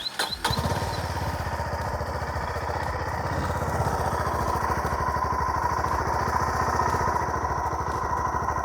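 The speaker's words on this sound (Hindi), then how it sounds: "मैं सबसे पहले आपको गाड़ी का इंजन स्टार्ट करके दिखाता हूँ कि दोनों की आवाज़ में कितना चेंजेस आया है।" An old Honda CB350 motorcycle engine cranks and catches near the start, then settles into a steady, loud, close-up idle with an even, rapid thumping pulse that holds to the end, with no talking.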